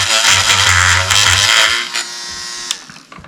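A Proxxon PS13 detail sander runs with a steady high-pitched electric buzz, loud and close, then its tone drops and fades as it winds down near the end; no voices.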